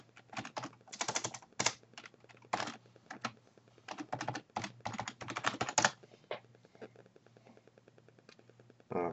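Rapid keystrokes on a computer keyboard entering a username and password, quick clusters of light clicks for several seconds, then sparse taps, close and fairly quiet with no voices.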